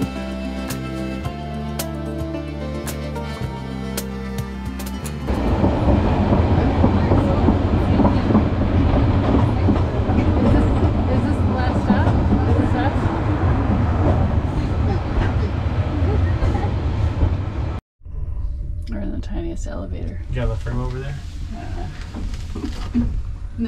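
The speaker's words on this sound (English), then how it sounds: "we continued on the tram to Douglas, switching cars for a different view" An electric tram rolls along its track on the Isle of Man, heading to Douglas, with rhythmic clicking and rumbling, briefly cutting out near the end before resuming; voices are faintly audible.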